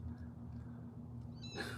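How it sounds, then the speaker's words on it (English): Cats in a house attic, a single short meow arriving at the very end after steady low household hum. "There's like at least fucking 17 cats living in my attic."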